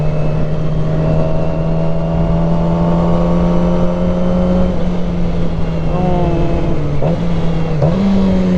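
Motorcycle with a loud stock exhaust droning steadily while being ridden, engine pitch holding then rising and dipping with throttle changes, close and loud with wind noise.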